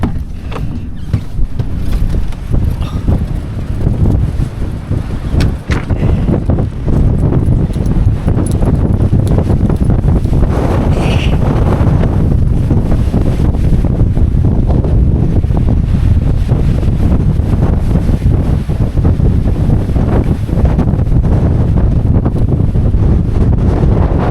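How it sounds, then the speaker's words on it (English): Strong mountain wind in the Cairngorms buffeting the microphone, a loud continuous rumbling roar with gusty surges and crackling thumps, no voice heard. "so you can actually hear the extent of this wind"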